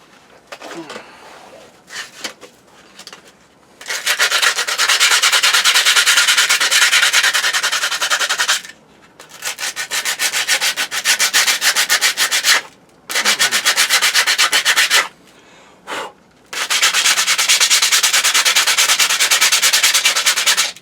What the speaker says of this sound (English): I do have a little sandpaper there. I can clean that rough slag off, at least.